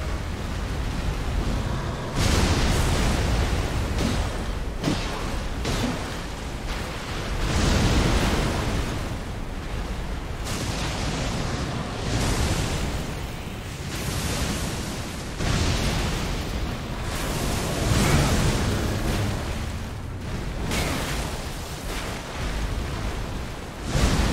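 Repeated heavy explosions from boss attacks in Elden Ring, a long stretch of loud booming blasts and rumbling bursts that rise and fall every few seconds without pause.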